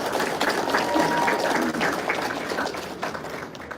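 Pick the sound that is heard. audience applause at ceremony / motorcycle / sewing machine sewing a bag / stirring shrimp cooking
audience applause at ceremony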